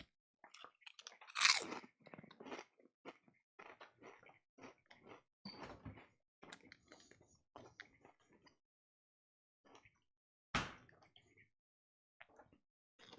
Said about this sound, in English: Now y'all can hear me crunch on some Ruffles